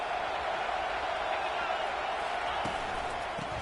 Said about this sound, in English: This crowd knows when to bring it.